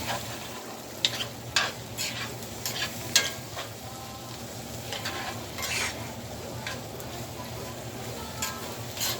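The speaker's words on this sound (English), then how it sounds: "Stir it up." A spoon stirring chicken pot pie filling in a pot on the stove, scraping and swishing through thick liquid over a steady sizzle, with repeated clinks against the pan.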